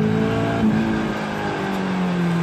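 A Caterham race car accelerates out of a corner at the Croix-en-Ternois circuit, its engine note droning loud and steady with a slight rise in pitch, heard close and alone.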